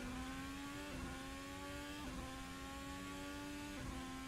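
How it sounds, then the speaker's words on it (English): F1 racing car engines in a sim racing game at the Yas Marina Circuit, Abu Dhabi, give a faint, steady high whine with rising pitch broken by gear shifts about every second or two. "I like the sound of these F1 cars."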